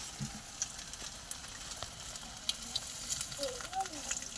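Vegetable chops fry in oil over a gas flame, a soft, fairly quiet sizzle with light crackles and occasional small knocks close by.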